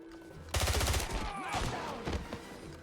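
Gunfire in the video game 007: Blood Stone, a loud burst of rapid repeated shots after a brief quiet, followed by scattered further shots and game noise.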